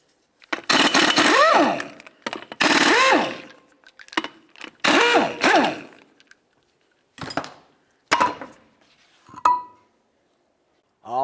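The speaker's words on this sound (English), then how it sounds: "we're going to remove all 4 of our 21mm lug nuts and then the" A power tool spins off the 21mm lug nuts on a 2007-12 Nissan Sentra wheel. Several loud, separate whirring bursts rise and fall in pitch, with short clanks between them and no talking.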